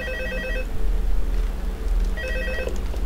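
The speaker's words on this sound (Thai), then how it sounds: "เสียงโทรศัพท์อีกอ่ะ" Telephone ringing in the Five Nights at Freddy's 2 video game, two bursts of electronic bell trills about a second and a half apart over a low hum, clear and fairly close.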